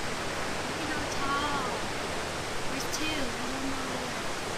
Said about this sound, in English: The waterfall's right there.